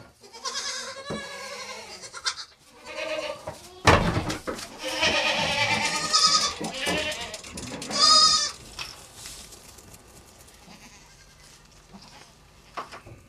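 Goats and sheep, mothers with their kids, bleating around a stall on a mountain farm in Liechtenstein; repeated overlapping bleats of varied pitch, some close and loud, amid rustling and shuffling, fading quieter toward the end.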